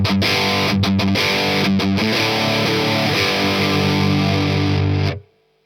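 Thick, sustained electric guitar distortion from a Chase Bliss and Analog Man Oh Brothers pedal, with chords and picked notes ringing loud and fizzy for several seconds before stopping suddenly into silence.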